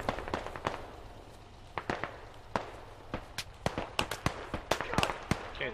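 Gunfire in the military shooter Squad, sharp cracks and short bursts at uneven intervals, some close and loud, others fainter, growing denser toward the end over low background noise.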